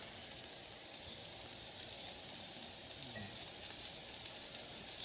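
Onions, leeks, carrots and shallots sizzle in a pan, giving a continuous, even hiss that stays soft and steady with no voices.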